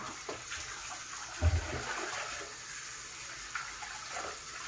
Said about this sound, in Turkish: suyumu dökeceğim.